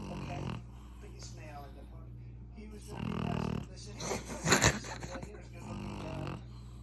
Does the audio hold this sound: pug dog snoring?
yes